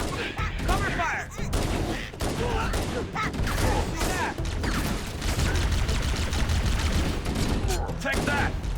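Dense, loud gunfire from Halo: Combat Evolved Anniversary, with rapid overlapping shots and bursts that roll on without pause, and voices shouting underneath.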